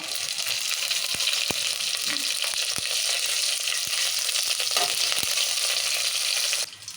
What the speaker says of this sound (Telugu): నూనెలా ఇప్పుడు జీలకర్ర, ఆవాలు, మెంతులు వేసినాం కదా, ఎర్రమిరపకాయలు కూడా వేసుకుందాం